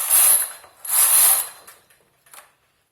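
A knitting machine carriage slides across two rows, two loud rasping, clattering sweeps of about half a second each, followed by a few fainter mechanical clicks and then quiet.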